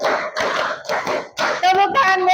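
A group of people claps a five-beat rhythm in three quick rounds, loud, close and crisp, with voices chiming in toward the end.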